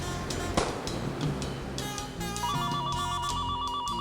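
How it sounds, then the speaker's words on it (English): A telephone rings steadily and fairly loud, with repeated electronic ring tones over a busy background and no talk. "Vita, please answer the phone"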